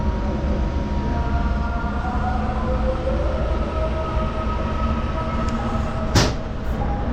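A passenger train on a Holi special service from Kolkata to Darjeeling runs near Farakka, a loud steady rumble and rattle of wheels on rails heard from inside the carriage, with a brief sharp squeal near the end.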